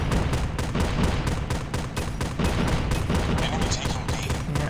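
ASM10 assault rifle firing in Call of Duty Mobile, loud rapid bursts of evenly spaced shots cracking in quick succession throughout, with only brief pauses between strings of fire.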